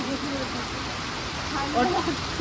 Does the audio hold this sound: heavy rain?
yes